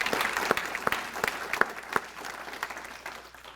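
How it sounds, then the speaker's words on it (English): An audience at a volunteer awards luncheon in Kettering gives a short round of applause, fairly quiet, scattered claps fading out over a few seconds. "So a round of applause, please, for Bruce."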